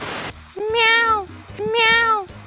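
A Minecraft cat gives two clear, drawn-out meows about a second apart, loud and close, following a short burst of noise at the start.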